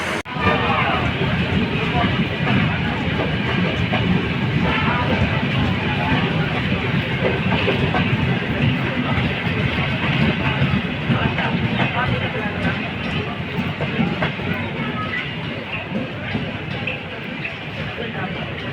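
Dhumketu Express train pulling out of a crowded station bound for Rajshahi, a steady loud rumble and clatter of wheels and cars running throughout, with crowd babble mixed in.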